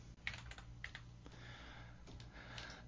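Fingers type on a computer keyboard in quick, uneven bursts of soft clicks and taps, close but quiet, with no talking.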